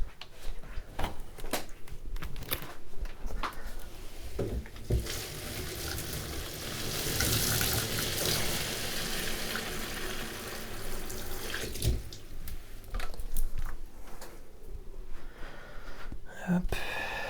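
Water runs from a tap into the reservoir of a Salamandres Blackstorm SP06 garment steamer, a continuous hissing splash lasting many seconds with some clunks and handling noises around it, near and fairly loud.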